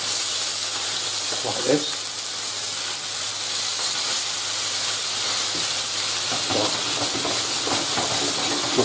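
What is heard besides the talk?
salmon and vegetables pan frying, sizzling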